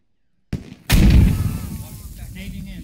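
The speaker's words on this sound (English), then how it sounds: "Just got hit by an RPG." A loud, close explosion from an RPG hit in the military shooter game Squad, a sharp blast followed by a rumbling decay and lingering low-end noise.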